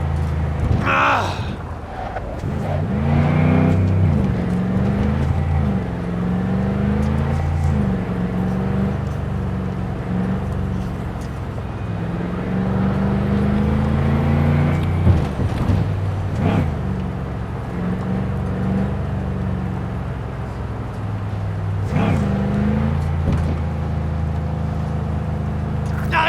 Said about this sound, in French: Arrêtez cette putain de bagnole!